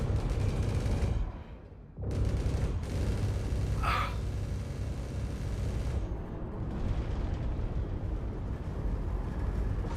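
Missile explosions in Star Citizen: a loud, continuous rumble is cut by a sudden drop, followed by a heavy blast and a sharp crack, then a long rolling roar that trails off.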